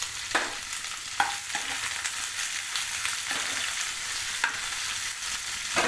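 Chana dal, urad dal and onions fry in oil with a dense, continuous sizzle, broken by several sharp clacks of a spoon stirring the pan.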